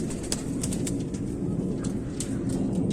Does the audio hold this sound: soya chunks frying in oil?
no